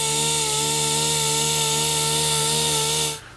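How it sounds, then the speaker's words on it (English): A pneumatic polisher compounds the paint of a Porsche GT3 RS, giving a loud, close, steady tonal whir that holds evenly for about three seconds before cutting off. "let's just make sure what we're doing here with the pneumatic is working"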